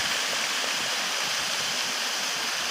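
The Rudanovsky River on Sakhalin Island flowing in winter, a steady, close rush of running water with an even hiss and no other sounds.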